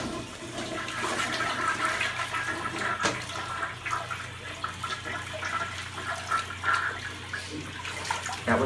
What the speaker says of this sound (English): Now flush again.